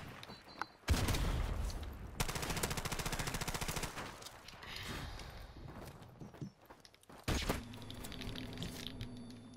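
Rapid automatic gunfire bursts in Call of Duty Modern Warfare Remastered multiplayer, loud and sustained with brief pauses, mixed with game footsteps and effects.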